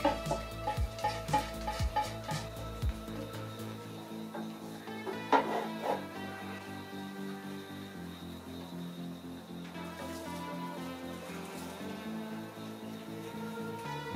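A small spatula stirs a mixture in a pan, giving light irregular scraping and clicking strokes at close range, with a low sizzle and faint kitchen clatter underneath.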